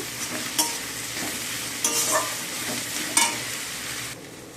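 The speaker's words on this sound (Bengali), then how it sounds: "আমি পেঁয়াজ আর কারি পাতা ভাজা করতে দিয়েছি" Onions and curry leaves fry in oil with dried chili, sugar and cumin seeds in a pan, a steady close sizzle broken by a few louder scrapes of a stirring spoon, with no one talking.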